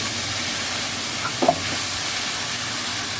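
Green chili and ginger paste sizzle in hot oil with a steady, close hiss, broken midway by a brief stirring clatter of a utensil against the pan; no one speaks.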